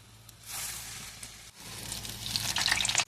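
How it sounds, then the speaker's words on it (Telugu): Close, lively sizzling of urad dal and onion vadas frying in hot oil. The sizzle dips briefly midway, then builds into bright, popping crackles before cutting off. "ఈ విధంగా బాగా క్రిస్పీగా గోల్డెన్ బ్రౌనిష్ కలర్ వచ్చే వరకు వేయించుకోవాలి ప్రతి గారి."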